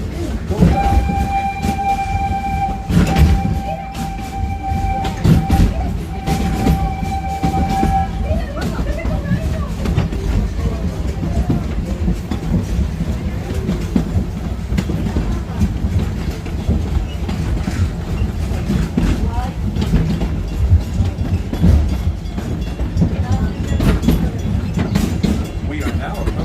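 Disney's Animal Kingdom train rolls along the rails with a steady rumble and clickety-clack, a tonal horn or whistle sounding early on, while a recorded announcement plays over it.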